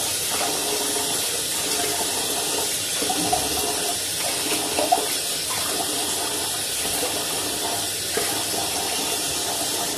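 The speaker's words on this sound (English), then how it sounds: "So I'm gonna rinse my face" Warm water runs steadily from a bathroom sink tap while someone rinses their face, a continuous close splashing rush with small irregular splatters throughout.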